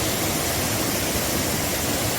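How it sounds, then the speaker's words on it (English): Bophill Waterfall in Meghalaya, India, near the Bangladesh border, heard as a steady, dense roar of falling water that fills the scene, loud and unbroken with no voices. "Bophill Waterfall is one of the best waterfalls in India-Bangladesh border."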